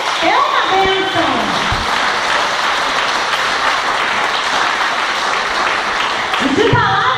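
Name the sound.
congregation applauding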